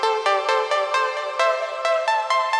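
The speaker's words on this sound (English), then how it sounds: "We'll go in and add a delay, rear delay." A bright synth pluck is run through a delay with heavy feedback, so its tonal notes repeat rapidly and pile into a dense, echoing cascade at a steady rhythmic pulse, with no voices.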